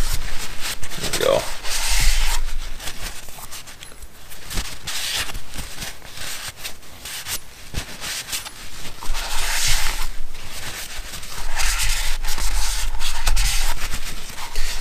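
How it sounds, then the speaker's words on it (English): Valves being lapped into LS cylinder heads with grit compound, a rough scratchy rubbing that swells and fades in repeated back-and-forth strokes, fairly close with no voices. "I know I was looking for different types of grit to lap these valves"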